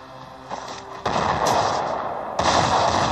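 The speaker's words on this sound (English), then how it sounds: "Oh, it's a machine gun." Machine gun fire in the video game Terminator Genisys comes as a dense, continuous burst of rapid shots that jumps louder twice, with no talking over it.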